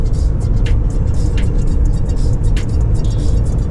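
A car cruises on a busy multi-lane motorway leaving Munich toward Dresden, a steady loud rumble of engine and road noise heard from inside, with faint passing whooshes and no talk.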